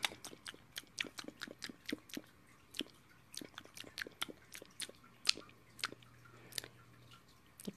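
A rabbit chews lettuce up close in rapid, crisp, rhythmic bites that continue steadily without pause in a quiet setting.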